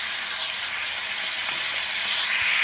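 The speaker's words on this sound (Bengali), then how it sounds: "মশলাটা ভালোভাবে কষিয়ে নেব" Spice paste frying with a splash of water in a pan while cooking raw banana kofta curry, a bright continuous sizzle and hiss, close and steady without speech.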